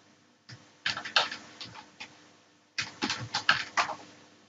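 Typing on a computer keyboard while entering a chart heading, two short bursts of close, light key taps separated by a pause, with no voices.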